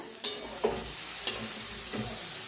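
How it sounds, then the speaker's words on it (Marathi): Cluster beans (gavar) sizzle in a hot pan while a spoon stirs them, with several distinct scraping clinks over the steady frying hiss. "मिक्स करूया भाजीला"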